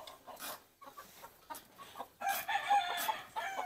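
Fighting roosters crow loudly in a gamecock pen over scattered clucking from nearby fowl, with several overlapping calls and a strong crow near the end.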